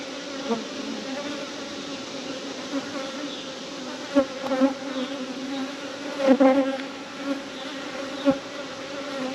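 A dense swarm of honey bees buzzes continuously close by around a hive, with individual bees droning louder as they pass near.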